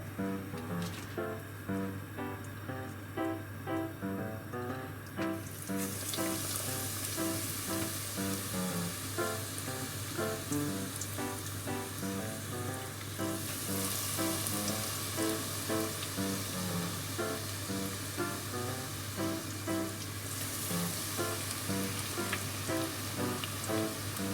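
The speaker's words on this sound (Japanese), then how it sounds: "170度ぐらいになったので揚げていきます。" Steady, busy sizzling of chicken tempura deep-frying in oil at about 170°C, a dense crackling hiss that continues without pause.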